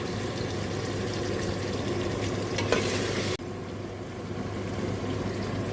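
Meat for degi aloo gosht fries over high heat in a pot, giving a steady close sizzle and crackle with a brief stirring scrape midway, and nobody talks.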